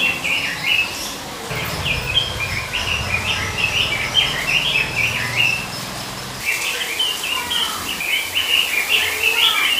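Bright, varied chirping song of a male magpie robin repeats in quick phrases over a steady background, loud and close, with brief pauses between bursts.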